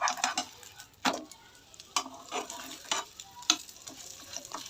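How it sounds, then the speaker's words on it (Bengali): Boiled potato snack frying slowly in a pan over low heat, a gentle sizzle under repeated scraping and turning strokes of a spatula about once a second, close by, with no talking. "উল্টিয়ে পাল্টিয়ে সুন্দর করে আস্তে ধীরে ভাজতে হবে, কম আঁচে"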